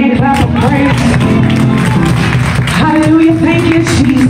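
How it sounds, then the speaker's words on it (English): A church congregation claps hands in praise during a Sunday morning service, a steady sustained patter of many hands beneath loud music and voices. "give God a hand clap of praise"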